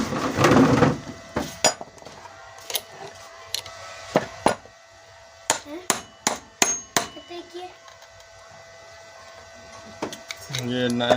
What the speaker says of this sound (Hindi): अब हम इसमें नया बैरिंग ठोकेंगे।